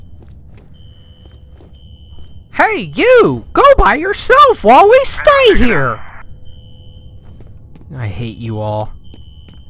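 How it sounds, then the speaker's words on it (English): A fire alarm goes off in a security office in the shooter game F.E.A.R., heard as faint, steady electronic beeping at the start and end, while a loud voice talks and shouts over the middle. "Fire alarm. Triggered at a security office on that floor."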